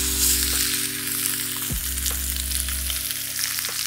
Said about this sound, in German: Olivenöl drauf, abtropfen und einfach jetzt in der Pfanne scharf anbraten.